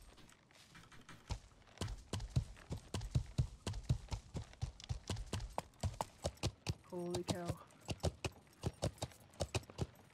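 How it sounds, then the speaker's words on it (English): Horse hooves clip-clop steadily across a bridge in a video game, a brisk rhythmic walk at close range, with someone talking briefly over the hoofbeats. "Horse goes across fine though."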